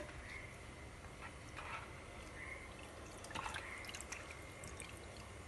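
Washed sardines drain in a container, with faint, scattered drips and trickles of water falling at irregular intervals over a low, steady background hiss.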